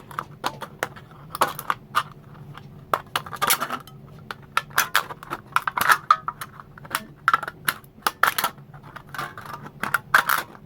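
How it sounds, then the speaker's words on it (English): Cheap scissors cutting through an aluminum soda can, a rapid irregular series of sharp close snips and metallic crinkles with brief pauses between cuts. "this aluminum can's cut really easy with scissors"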